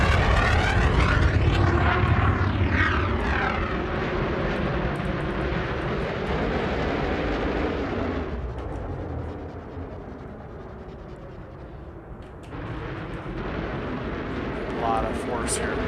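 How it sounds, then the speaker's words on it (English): Heavy roaring surge of a Mamba spaceship's boost in Elite Dangerous, loud at first with a sweeping whoosh, easing down midway then swelling again near the end, while a voice talks over it. "Here's a boost."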